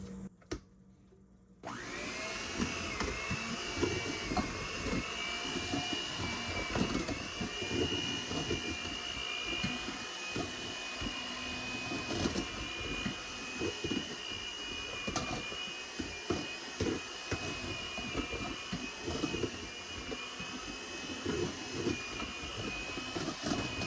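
A blender runs on a low setting, grinding thawed turkey meat into ground turkey, a steady loud motor whine with chunky churning and knocking from the meat, starting after a brief quiet moment and continuing throughout.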